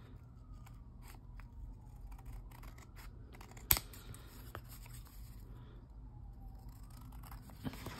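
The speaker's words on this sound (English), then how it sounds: "so I'm gonna cut it on this line back here." Scissors cutting paper to make a journal tag: a series of small, close snips and crinkles, with one sharp louder cut near the middle and another near the end, against a quiet background.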